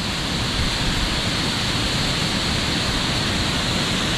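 The Venta River in Kuldīga, Latvia, flowing as a steady broadband rush of water, constant and fairly loud, with no voices over it.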